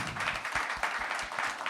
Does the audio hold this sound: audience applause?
yes